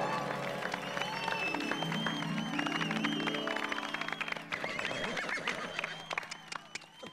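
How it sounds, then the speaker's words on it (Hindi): Audience applause and cheering for guests on a television comedy set, a continuous crowd clapping that runs throughout and is mixed with music and voices. "जोरदार तालियां इनके लिए।"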